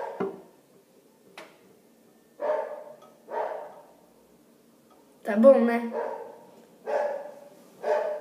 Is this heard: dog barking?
yes